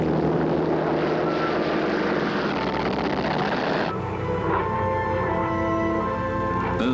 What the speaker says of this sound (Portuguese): Os aviões japoneses atacaram os dois navios em 10 de dezembro.